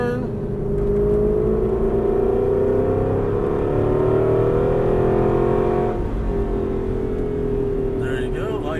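An Aston Martin V8 Vantage engine hums loudly and steadily with a rising pitch, sounding close and continuous, before the tone dips briefly near the end.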